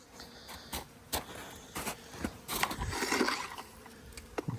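Honey bees buzzing around outdoor hives during a late-winter check after a deep freeze, a faint, wavering hum with soft rustles and a few footsteps close by.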